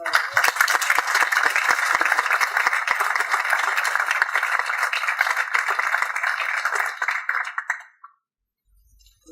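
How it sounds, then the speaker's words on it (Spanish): An audience at an artificial intelligence community event breaks into steady applause, many hands clapping densely and fairly loud for around eight seconds before it cuts off into near silence. "Un aplauso para..."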